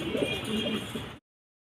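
Fancy pigeons at a pigeon farm coo softly in a short burst of low, rolling calls, heard close up with faint background hum, ending abruptly.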